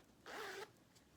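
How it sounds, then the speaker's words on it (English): A zipper on a sewn fabric pouch is pulled open in a single quick, close zip lasting about half a second in an otherwise quiet room. "we're going to open that zip like I have"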